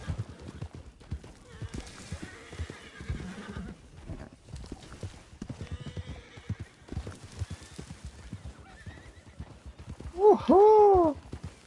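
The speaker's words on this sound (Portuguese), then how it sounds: "Esse é meu cavalo, cara." Hooves clip-clop steadily from a horse in Red Dead Redemption 2 Online, closing with a loud, close whinny near the end, with speech and game sounds mixed in.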